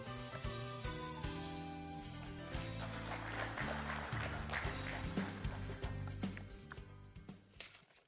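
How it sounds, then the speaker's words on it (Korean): An audience at an economic forum applauds to welcome a speaker, steady group clapping heard under loud, continuous background music with sustained tones. "박수로 맞아주시기 바랍니다"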